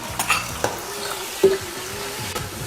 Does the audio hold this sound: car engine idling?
no